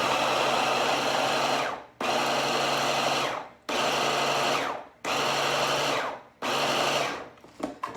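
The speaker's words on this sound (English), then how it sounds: "I'm gonna put them in my food processor and kind of make it more like a jam" A small food processor blending fruit into a jam runs in five loud, steady whirring bursts, each cutting off abruptly before starting again, close up, with a brief clatter at the end and no voices.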